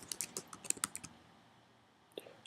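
Quick keystrokes on a computer keyboard as a login name is entered, a close, quiet run of clicks for about a second, a pause, then a couple more taps.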